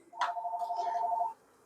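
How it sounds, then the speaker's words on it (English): A telephone rings once in a single steady electronic trill lasting about a second, fairly loud and close, with no voices over it, interrupting an outdoor offset-smoker cook of spare ribs, cabbage and black-eyed peas. "And that is the phone ringing"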